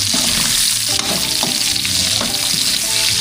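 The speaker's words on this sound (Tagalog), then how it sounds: "Ngayon naman, mag-gisa na tayo ng ating bawang sibuyas." Garlic and onion sauté in a pan, a dense close sizzle with several distinct stirring scrapes of a utensil against the pan.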